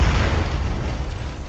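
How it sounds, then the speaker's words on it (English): A rocket engine exploding during a ground test in a workshop, a loud deep boom followed by a sustained heavy roar that slowly tapers. "the engine malfunctioned, followed by explosions"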